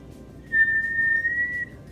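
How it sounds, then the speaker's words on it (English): A single steady whistled note held for about a second, clear and close, with no talking. "Can I whistle?"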